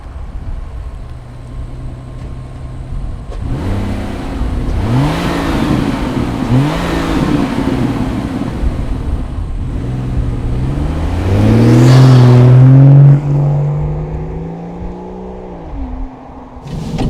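A Rolls-Royce Cullinan Series II's V12 engine revs up in several surging bursts, climbing to a loud, high roar near the end before settling back to a rumbling idle.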